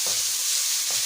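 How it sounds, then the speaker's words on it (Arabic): Rice, washed and drained, is stirred into a hot pan with fried pieces, giving a steady bright sizzle with two soft scraping strokes of the spoon. "هقلبه كده شويه كام تقليبه لحد بس ما يتبدل شويه معايا"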